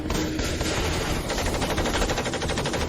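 Rapid, continuous machine gun fire rattles loudly and without pause for the whole stretch.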